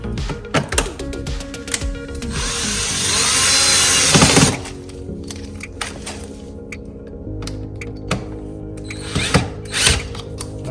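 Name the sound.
power drill driving screws back into Honda Accord side skirt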